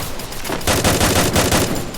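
Rapid gunfire from a mobile shooting video game, a loud, dense burst of repeated shots that builds after a brief lead-in and carries on to the end.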